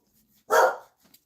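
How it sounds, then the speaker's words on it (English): A single sharp dog bark rings out at moderate distance, followed by a faint trailing yip and quiet surroundings; the dogs are being looked after at home. "I'm babysitting my brother's dogs right now, so they might bark back there"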